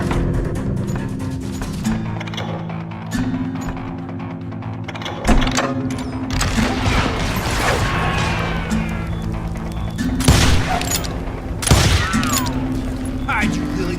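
Repeated gunfire in the Western shooter Call of Juarez: Gunslinger, with bursts of shots and sharp impacts over a busy game soundtrack, while voices shout in places.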